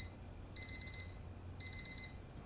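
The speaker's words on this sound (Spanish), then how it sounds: "Alarma." An alarm clock in the horror video game Feed the Entity rings in two short bursts of rapid high electronic beeps, a second apart, over quiet background hum.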